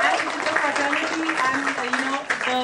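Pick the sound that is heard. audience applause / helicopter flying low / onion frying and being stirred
audience applause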